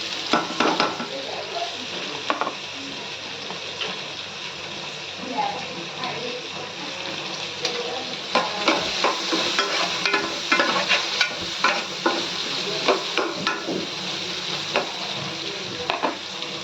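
Curry leaves and dried red chillies fry in a pan with a constant loud sizzle, while stirring adds scrapes and clatters that grow denser near the end. A voice talks faintly underneath.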